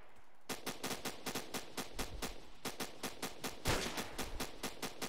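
Rapid gunfire in an online first-person shooter game comes in a steady stream of sharp, evenly spaced shots over about five seconds, fairly faint, with one heavier burst near the end and no talk.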